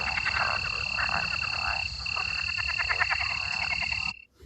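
Wood frogs calling in a continuous chorus of rapid, clucking croaks that sound almost like chuckling, with a steady high insect-like trill running underneath. The chorus fills the recording and stops abruptly near the end.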